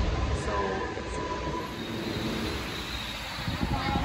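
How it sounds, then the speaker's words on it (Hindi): Riding aboard a Mumbai local train, a steady loud rumble of wheels and carriage noise fills the whole stretch, continuous and close with no break. "लोकल ट्रेन में आ गई हूँ मैं, अब चली।"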